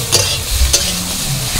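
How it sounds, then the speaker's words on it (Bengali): Ridge gourd pieces frying in an oil pan, a steady close sizzle broken by three sharp scraping strokes of a spatula stirring, with no talking. "ঝিঙেটা ভালো করে ভাজা হয়ে গেছে"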